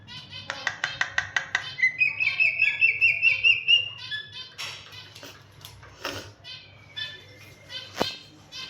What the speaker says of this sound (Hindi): ये देखें कूद रही है बात करने के लिए मैना।